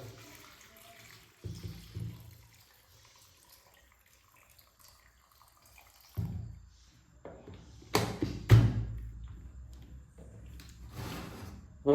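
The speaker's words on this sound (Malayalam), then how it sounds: "പിന്നെ ഇതിലേക്ക് നമുക്ക് കുറച്ച് വെള്ളം ഒഴിച്ചു കൊടുക്കാം" Water poured into a mixer jar holding tapioca comes in a few short, quiet splashing bursts separated by near silence, with a louder pour and clatter toward the end.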